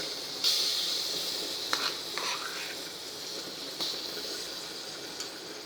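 Butter melting in a hot pan to begin a white sauce for pasta gives a steady, soft hiss with a few brief sputtering crackles, close by and with no talking.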